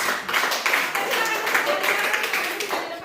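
A room full of people claps together in a dense, steady patter of applause, moderately loud and continuous throughout.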